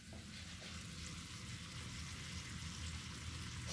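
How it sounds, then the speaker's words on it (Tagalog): Steak sizzles in a pan for a homemade steak and mushroom sauce dish, a faint, continuous crackling hiss with soft popping, steady throughout and no voices. "Ayan muna natin siya mag-fry ng konti."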